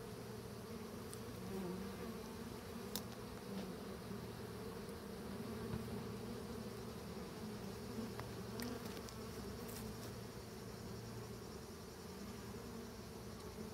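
Honeybees fan their wings outside the hive to release pheromones and call the colony back, a dense, steady buzzing hum that holds evenly throughout with faint passing clicks.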